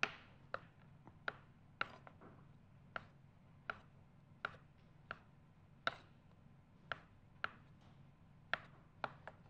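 A knife chops regular idlis into small pieces on a board, producing about fourteen crisp, evenly spaced taps against a quiet room background.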